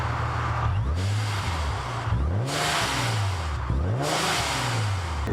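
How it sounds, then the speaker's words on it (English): A Precision Turbo 50mm blow-off valve on a supercharged Nissan 370Z. The engine revs rise and fall repeatedly, and each lift-off is followed by a loud, breathy whoosh of released air, heard twice clearly from inside the car. "I've got the Precision Turbo 50mm blow-off valve."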